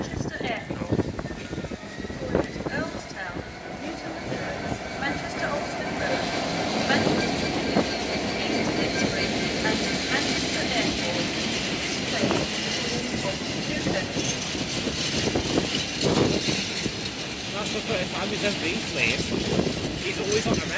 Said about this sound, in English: 10:20 Transport for Wales service to Manchester Airport.